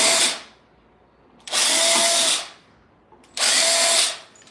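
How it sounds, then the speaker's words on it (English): A power drill whirs in three bursts, each running steadily for about a second before cutting off, with short quiet gaps between. "drilling"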